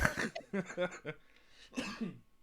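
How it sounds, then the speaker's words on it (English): A few rough coughs and throat-clearing bursts, close to the microphone, mixed with brief breathy vocal sounds. "And I got this cough going on, so everybody's interrupting."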